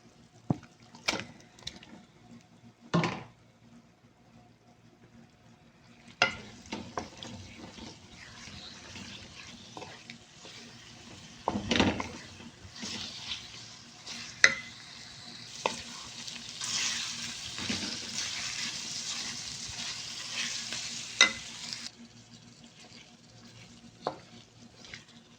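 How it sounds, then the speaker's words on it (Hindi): Liver pieces fry and sizzle in a masala in a pan, with intermittent scraping and clatter from stirring over a steady close sizzle that grows louder midway. "अब बस इसमें कलेजी डालते हैं।"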